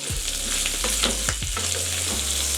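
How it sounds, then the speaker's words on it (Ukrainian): Steady, close sizzling of food frying in oil with garlic in a pan, with scraping and stirring strokes breaking through the hiss and no voices. "буду помішувати. Спробую так. Так перемішається з маслом, з чесничком."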